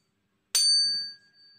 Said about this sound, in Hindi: जो सबसे बड़ा वाला है ट्यूनिंग फॉर्क उसको निकाला है और इसकी फ्रीक्वेंसी लिखी हुई है 256 हर्ट्ज।